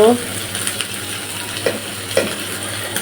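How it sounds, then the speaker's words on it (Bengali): Onions fry in hot oil in a home kitchen pan. A soft, steady sizzle is broken by a few faint clicks from stirring. "এবার পেঁয়াজটাও ভেজে নেব"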